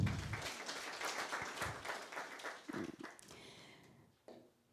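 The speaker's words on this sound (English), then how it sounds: "Another round of applause." Scattered applause at a convocation ceremony for a governance internship program, fairly faint and uneven, with a few sharper individual claps standing out before it thins and dies away.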